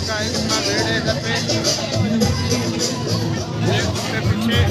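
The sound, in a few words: crowd babble at Dahanu festival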